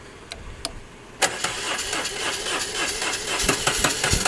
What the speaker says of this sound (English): Hit the starter button.